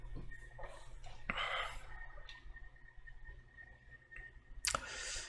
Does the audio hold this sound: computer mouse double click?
yes